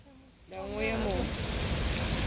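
Heavy rain pouring down in Fortaleza, Brazil: a dense, loud, steady hiss that swells in after a quiet start. A brief voice briefly sounds as the downpour rises.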